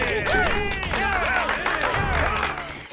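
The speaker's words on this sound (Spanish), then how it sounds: "Todos aplaudiendo, pensé que me iban a atacar." Crowd clapping and cheering in Batman: Arkham Asylum, with a mass of voices whooping over scattered applause, loud and continuous before easing off at the end.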